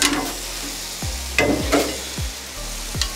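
Turkey burger sliders sizzle steadily on a hot Blackstone griddle, close and continuous, with a few short scrapes and knocks from a spatula spread through the sizzle.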